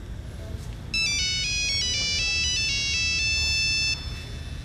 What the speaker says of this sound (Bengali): আব্বা ফোন করছে।